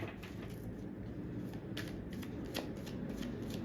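Tarot cards being shuffled and drawn by hand, a steady close papery riffle and slide lasting throughout, with a few sharper flicks as cards are pulled.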